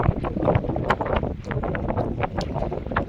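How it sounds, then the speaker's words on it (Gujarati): At night, wind gusts buffet a fishing boat out at sea, a loud, rough, blustery roar that rises and falls close to the microphone with no one speaking. "આજે રાતના પવન નીકળી આવ્યો."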